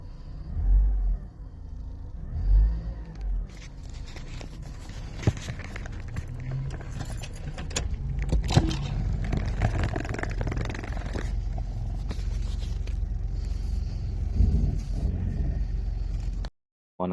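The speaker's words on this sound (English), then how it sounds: "he'll just let you listen to it run. Just a nice, smooth engine." A 1991 Mitsubishi TP Magna Executive Safari wagon's engine runs smoothly, giving a steady, even low rumble near at hand, with a few light clicks and knocks over it before it cuts off abruptly.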